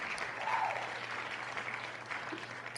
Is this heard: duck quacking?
no